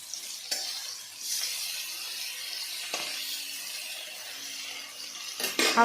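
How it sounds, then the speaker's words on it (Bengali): Fish fry in hot oil in a pan, giving a steady bright sizzling hiss throughout, broken by a few sharp clicks of a utensil and rising slightly louder at the end. "আমি সবার প্রথমে দেখো মাছগুলো ভেজে নিই আগে"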